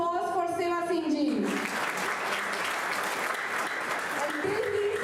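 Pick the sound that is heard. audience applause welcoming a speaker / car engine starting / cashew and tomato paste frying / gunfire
audience applause welcoming a speaker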